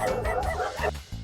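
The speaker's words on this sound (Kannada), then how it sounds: "dog sound" A dog barks and yips in a few quick, sharp bursts close by, with a whimpering edge.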